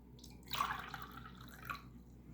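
Lukewarm water is poured into flour for rye bread dough: one soft, short splashing pour, then a quieter trickle in a still kitchen.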